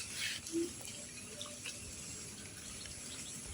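Floodwater flowing during a flash flood, a steady rushing wash of water heard close up throughout, with no talk over it.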